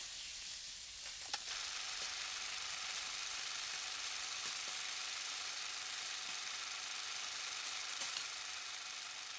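Frying sizzle effect in the Danganronpa 2 video game, a steady bright hissing crackle throughout with occasional soft clicks, loud and continuous.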